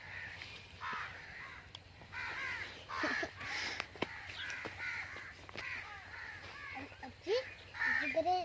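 Crows caw repeatedly near their nests in a village, harsh calls coming in irregular bursts from close by, with voices talking in between.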